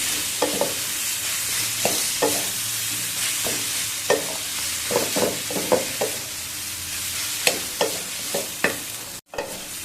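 A spatula stirs spices and chili powder in a frying pan for hilsa head and elephant foot yam, making repeated sharp scraping knocks against the pan over a constant, close sizzle.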